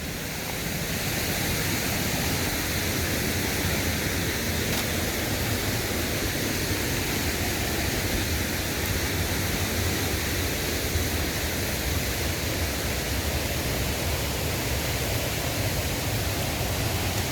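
A river rushes beside a mountain trail, giving a steady, broadband roar that holds evenly from start to finish with no voices over it.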